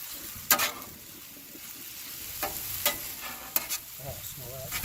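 Rice vinegar splashed into a hot pan with garlic, giving a steady soft sizzle under several sharp scraping stirs and clinks of a utensil against the pan.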